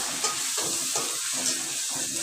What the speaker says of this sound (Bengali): সব মশলাটা সুন্দর করে কষিয়ে নেওয়া হবে